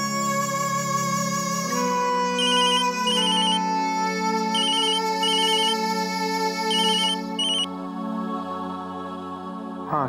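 A telephone ringtone plays continuously for about ten seconds, a loud, melodic repeating tune with no one talking over it.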